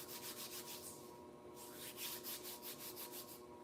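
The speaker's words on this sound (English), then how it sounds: "Rubbing the hands." Palms rubbing together during a breathing exercise, a soft, close, rhythmic brushing with repeated strokes, quiet and alone without speech.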